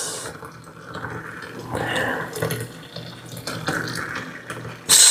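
Boiling water is poured over dry pigeon peas, a steady rushing pour with fluctuating splashy texture that swells and eases across the clip, ending in a brief bright burst, with no talk.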